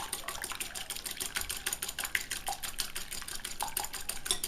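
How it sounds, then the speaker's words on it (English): A small whisk beats an egg in a bowl, fast rapid clicking and tapping strokes repeating steadily and close up, with no talking. "First I am going to just beat up the egg, my new little whisk"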